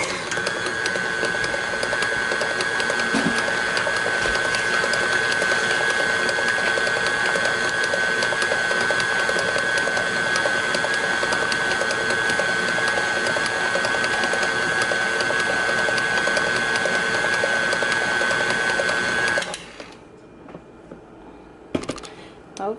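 An electric mixer blends Kentucky butter cake batter with a steady, close mechanical whir that holds an even pitch for about nineteen seconds, then switches off, leaving faint clinks and quiet room sound.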